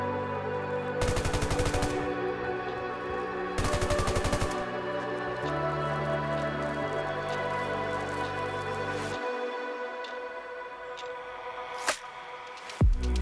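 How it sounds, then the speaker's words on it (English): Bursts of rapid automatic fire from a FAMAS rifle in PUBG, two loud sustained volleys followed by quieter mechanical hums and a sharp click near the end. "The first thing we can see is that the FAMAS shoots just as fast as the Groza"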